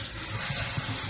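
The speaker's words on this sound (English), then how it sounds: "Alright, here's the nickels. Let's give them a rinse." A water tap runs steadily while nickels are rinsed beneath it, giving a continuous close hiss and splash with faint clinks of coins.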